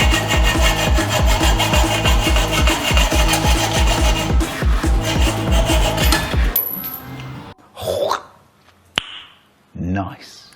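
Tag being cut off an FMF exhaust for a Honda CRF110, heard as rapid rhythmic rasping strokes for several seconds, then stopping, followed by a few scattered clanks and brief noises.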